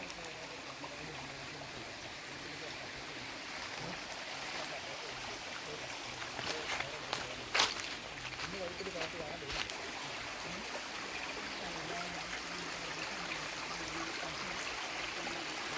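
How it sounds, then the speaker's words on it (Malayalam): A small stream trickles and gurgles in a soft, continuous flow, with a few brief clicks and knocks nearby around the middle. "നമ്മുടെ സ്ഥലത്തിൻ്റെ ഒരു സൈഡിൽ കൂടെ ഒഴുകുന്ന തോട് ഇതാണ്"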